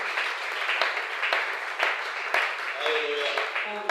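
Applause rises and falls through a church service, steady dense clapping from a congregation with faint tonal bits near the end.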